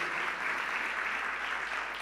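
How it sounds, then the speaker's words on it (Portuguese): A church congregation applauds during a Sunday sermon, producing a steady, even wash of clapping throughout, moderately distant and without talk. "Aplauda esse nome, aplauda esse nome."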